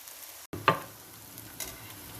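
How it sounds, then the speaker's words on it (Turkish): Vegetable patties sizzle and crackle in a hot pan, a soft steady frying hiss with a couple of sharper spits, close by. "Diğer tarafını da altı kısıp kızartacağım"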